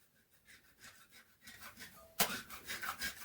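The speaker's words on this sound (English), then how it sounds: "So now let me try and scrape it off." A hand scraper rasps over old floor tile adhesive softened with remover, repeated short strokes that grow louder and rougher partway through, ending in a sharp scrape followed by quick bursts.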